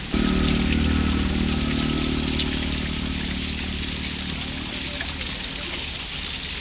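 Water splashes and trickles as someone washes their face at a tap in Pokhara, Nepal, a steady running flow over a low, constant engine-like hum, with no talking.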